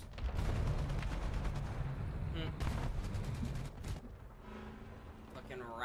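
A tank fires its cannon in the War Thunder video game, with several loud, booming blasts and rumbling decays spread across the moment, close and dominant.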